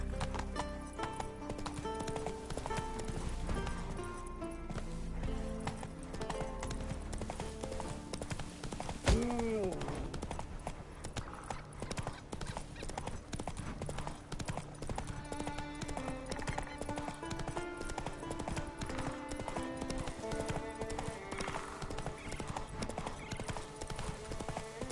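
Roach, a horse in The Witcher 3 game, gallops with a steady, rapid clip-clop of hooves throughout, heard under game music and occasional voices.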